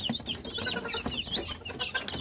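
Newly hatched Rhode Island Red chicks from an incubator peep continuously in high, rapid chirps close up, with no voices.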